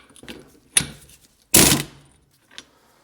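A 30 mm six-point socket works loose the nut on a BMW E36 188 mm limited-slip differential, giving a few close, sharp metallic clanks and scrapes, one louder and longer than the rest.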